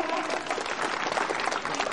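Dense, loud applause from an audience at a youth club event in Khandbari fills the whole moment with continuous close clapping.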